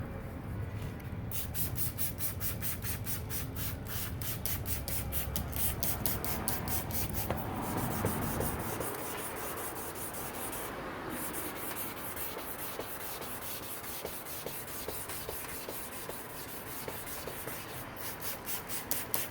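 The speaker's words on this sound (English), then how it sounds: "I'm going to start out with 1000 grit, go horizontal, vertical, and then a 2000 grit horizontal" A car headlight lens is wet sanded by hand with 1000 grit sandpaper, giving close, continuous rhythmic scrubbing strokes that shift from one pattern to a finer, quicker back-and-forth partway through.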